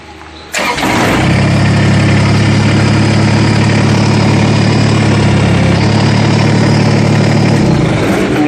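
A Kubota BX25D tractor backhoe engine starts up after a brief moment and settles into a loud, steady close idle that runs to the end, with no talking.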